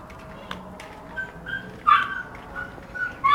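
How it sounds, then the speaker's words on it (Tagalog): A large dog close by, whimpering and whining in short bursts, then letting out a couple of yips and barks toward the end, with no talking. "Malaking aso."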